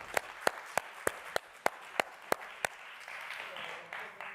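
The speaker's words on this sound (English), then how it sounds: "All right, more claps." Sharp, evenly spaced hand claps ring out about nine times at a DARPA Triage Challenge awards ceremony, then give way to a softer, sustained wash of crowd applause.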